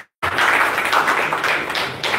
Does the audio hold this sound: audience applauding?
yes